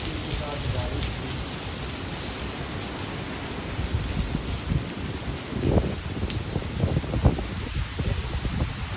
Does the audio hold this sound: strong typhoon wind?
yes